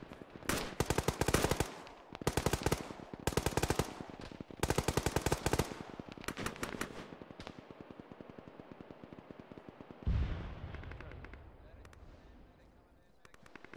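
Machine gun fire in a military video game: rapid loud bursts of automatic shots in several volleys, followed by quieter scattered firing and a heavy thump, with voices talking over it.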